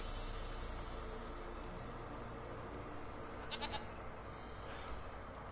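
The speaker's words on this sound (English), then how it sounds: "The goat looks happy enough." A goat in the video game The Witcher 3 gives a short bleat partway through, faint beneath a steady bed of ambient game noise, with no talking.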